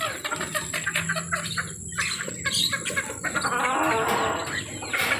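A pet bird kept in a homemade cage lets out loud, harsh screeches, a rapid string of raspy squawking calls that carry over a noisy indoor background.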